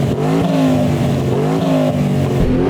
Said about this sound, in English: Matt, let's have a listen to your car with turbochargers and stuff.